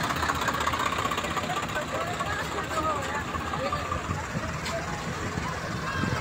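A tractor engine idles with a rough, knocking chug during a tractor march held by women farmers, and voices carry over the steady mechanical rumble.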